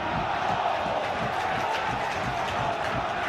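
Football crowd at a Bournemouth v Middlesbrough match, a steady dense roar of voices and cheering throughout, loud and continuous with no single voice standing out.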